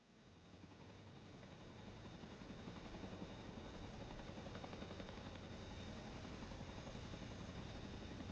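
Chinook helicopter flying nearby, a faint, steady rotor and engine rumble that builds slightly over the first few seconds and then holds level, with no talk.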